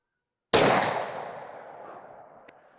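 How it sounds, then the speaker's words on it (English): A single sharp muzzleloader rifle shot loaded with Triple Seven powder and a 330-grain Powerbelt ELR bullet, sudden and loud, with a long fading echo across an outdoor range and a faint click near the end. "So now we're shooting the Powerbelt ELRs"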